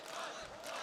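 Arena crowd at the CS:GO Major MLG Columbus 2016 final, a brief, faint wash of distant cheering and murmur.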